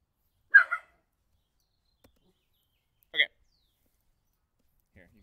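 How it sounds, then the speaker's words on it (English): A puppy gives two short, sharp barks a few seconds apart, fairly close but not loud, with near silence between them and no talking. "my puppy is barking"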